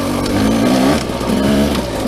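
A KTM 200 dirt bike engine climbing a hill slowly without the clutch, a close, steady low drone with small rises and dips in pitch, loud and continuous with no talk.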